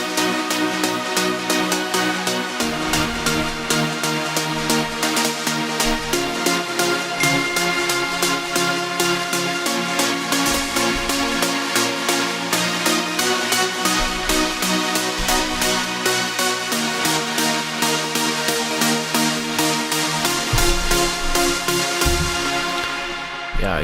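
A trance track produced in Ableton Live plays on its own: a dense, steady electronic mix with a driving pulsing beat, layered synth pads and bright sustained leads at a constant loud level throughout.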